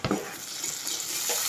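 Goat head skin frying with browned onion in a pan of oil for a curry; dense, steady sizzling up close with a short scrape at the start, continuous throughout.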